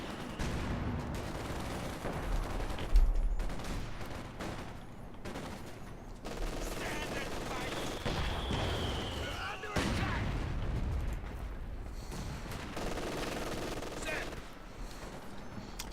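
Machine gun and sniper fire from a Company of Heroes 2 battle, scattered bursts and sharp shots with occasional booms spread through the stretch, mixed beneath a talking voice.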